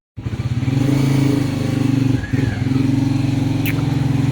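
An L3 motorcycle engine runs loud and close, a steady low throbbing idle with slight revving as the bike starts off and moves away, briefly dipping midway before resuming its even drone.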